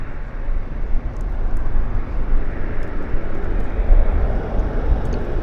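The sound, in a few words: aircraft engines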